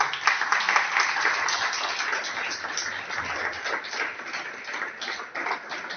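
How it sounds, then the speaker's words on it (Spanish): A church congregation claps together during a worship service, giving steady, fairly close applause that continues for the full six seconds. "Denle un aplauso al Señor."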